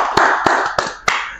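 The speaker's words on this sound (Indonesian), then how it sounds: "Tepuk tangan buat Pak Agus" Four sharp, evenly spaced hand claps ring out close and loud in a podcast studio to thank a guest, each crisp smack followed by a short decay over a soft background hum.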